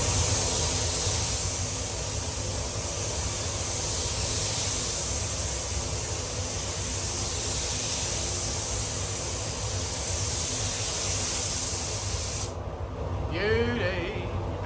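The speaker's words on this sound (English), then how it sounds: "going to put some shiny lacquer on it" Shiny lacquer sprayed from a spray gun onto a Honda Civic Type R FN2, a continuous loud hiss of spraying that runs unbroken before cutting off abruptly near the end, where faint voices follow.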